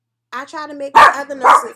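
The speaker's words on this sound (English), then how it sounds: "Sorry about my dog." A dog barks twice in quick succession indoors, close and loud, after someone speaks over a home setting.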